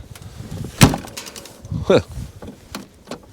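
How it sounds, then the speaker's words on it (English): A door on the screen-used Knight Rider semi truck swings open near the camera, giving a sharp clunk of the latch and a short creaking movement, with light background noise and no talk over it. "Let's see if this door will actually,"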